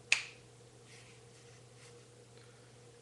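A single sharp finger snap during a close-up card trick, crisp and near at the very start, followed by near silence with a faint steady hum.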